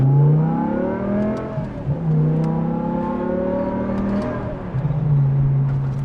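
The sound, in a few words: car exhaust with aftermarket mufflers revving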